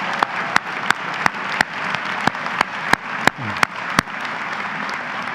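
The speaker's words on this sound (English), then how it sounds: "Let's give them a round of applause." An audience claps at a college matriculation ceremony. The dense applause is steady and moderately near, broken by sharp, evenly spaced clicks throughout.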